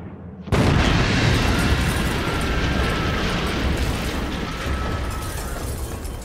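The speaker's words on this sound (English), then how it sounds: "They would explode on the ground, and they're devastating if they have a direct hit to a house or a building" A flying bomb hits the ground in a sudden heavy blast, then a long, loud rumbling roar that slowly fades over several seconds, with no voices.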